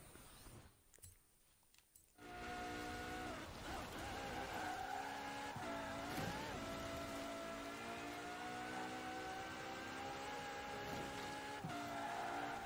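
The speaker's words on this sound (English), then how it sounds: "We decided to do it in the Ferrari FXXK just for a change." Ferrari FXXK hypercar racing in Forza Horizon 4 on a LEGO Speed Champions course: after a quiet two-second lead-in, a loud, steady high-revving engine drone takes over, with shifting pitch, brief gear-change dips and occasional tire squeal.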